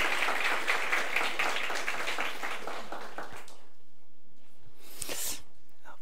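A church congregation applauds a young accompanist during a Sunday service, dense clapping filling the room before tapering off into near silence, with a brief scattered burst near the end.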